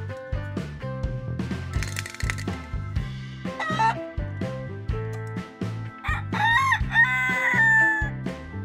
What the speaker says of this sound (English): The number 4 animal is a chicken.